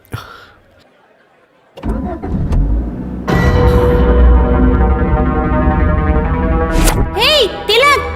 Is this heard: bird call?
no